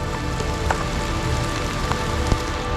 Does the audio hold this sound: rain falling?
yes